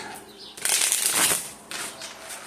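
A deck of tarot cards being shuffled, a close, loud riffling burst that rises, fades, and returns briefly.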